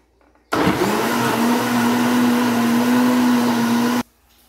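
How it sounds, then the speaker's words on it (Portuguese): A blender whirs steadily for about three and a half seconds, beating a creamy Christmas dessert mixture of instant noodles and fruit, starting and stopping abruptly with a loud, sustained motor hum and churning. "vou colocar tudo aqui e vou bater até ficar bem cremosa"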